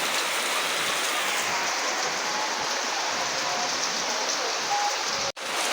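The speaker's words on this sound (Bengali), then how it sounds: "বৃষ্টিও কিছুতে কমতেছে না" Heavy rain falls in a loud, continuous wash of hiss near the microphone, steady throughout with a brief dropout near the end, no talk.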